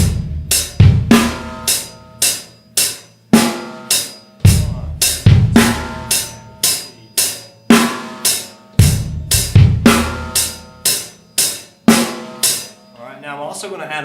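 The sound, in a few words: drum beat with hi-hat and backbeat snare drum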